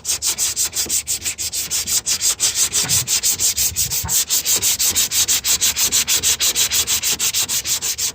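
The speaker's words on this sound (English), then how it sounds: "And the whole idea behind sanding" Coarse 80-grit sandpaper on a sanding sponge scuffs a truck fender ahead of spray-can primer, in fast rhythmic crosshatch strokes, loud and close, each rasping pass clearly separated, with no talking.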